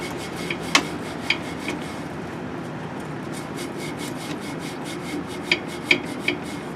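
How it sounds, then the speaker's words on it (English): A bristle brush scrubs dust and debris off a paint booth fin in a steady, close rasping rub, with a few sharper scraping strokes and knocks scattered through it and no talk. "This isn't quite the bristle brush that I would hope, however it's doing a really good job right now."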